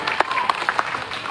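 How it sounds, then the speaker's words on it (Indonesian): Audience applause for teachers at a school gathering with a regional official, a short burst of scattered claps mixed with crowd noise and voices. "Sekali lagi tepuk tangan buat seluruh pendidik yang berasal dari SMP 3 ini."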